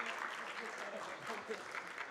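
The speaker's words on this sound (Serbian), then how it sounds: "oni će lagano aplauz, tako je" Brief, steady audience applause rises at a telecom cybersecurity conference panel as guests are welcomed, with a voice speaking over the clapping.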